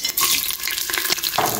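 Spices and onions fry in hot oil with a steady crackling sizzle, broken by brief stirring scrapes of a spoon in the pan, close and fairly loud throughout.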